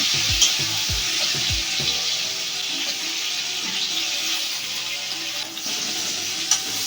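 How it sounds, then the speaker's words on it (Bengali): Vegetables for khichuri sizzle steadily in hot oil in a pan, with a few low knocks of stirring early on and occasional spoon scrapes, close and continuous with no talk. "সবজিগুলোকে একটু সময় নিয়ে লাল লাল করে ভেজে নিতে হবে"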